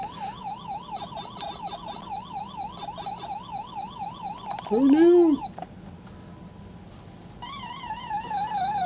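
A short, swooping electronic death sound from a retro mini arcade game, with a voice exclaiming over it, while a wailing siren-like tone warbles throughout.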